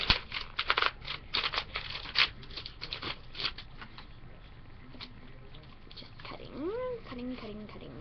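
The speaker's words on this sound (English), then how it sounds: "Cutting." Decorative craft scissors snip through paper for Valentine's decorations, a run of short crisp cuts close by, with brief quiet gaps and some faint rustling between them.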